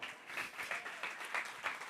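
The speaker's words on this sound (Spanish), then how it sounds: "Queremos darle un gran aplauso a Julio y Carlos Aldana." Quiet audience applause greeting two guest brothers at an event, a soft, steady patter of many hands at a distance with no talking.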